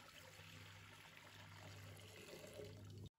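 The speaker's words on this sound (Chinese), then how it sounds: "接下来准备一个蒸锅， 倒入清水，" Clear water streams into a steamer pot being readied for a steamed winter melon and egg dish, a steady close pour that runs without a break for about three seconds and then stops abruptly.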